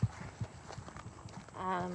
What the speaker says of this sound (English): You can see we've got some of the horses out right now.